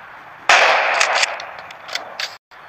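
Gunfire from the mobile video game Rope Hero Vice Town: a loud, sudden burst of rapid shots up close, followed by a few sharper cracks that trail off before a brief cut to silence.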